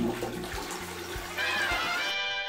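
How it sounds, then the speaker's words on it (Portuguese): A toilet flushes after being cleaned with a mix of Coca-Cola and fabric softener, a continuous close rush of gurgling water that swells louder partway through, with no speech. "E agora eu vou dar uma descarga pra nós ver como que vai se comportar."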